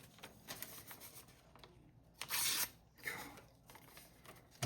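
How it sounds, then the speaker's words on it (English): A freshly sharpened chef's knife slices through paper in a few quick, crisp rasping cuts, with the longest, brightest swipe in the middle, all faint and close with no talking. "this thing cut through paper"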